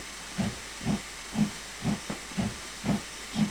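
A steam-era 8F locomotive in Train Simulator labours on a Scottish line, sending out regular rhythmic exhaust chuffs of hissing steam, about two beats per second, clear and alone.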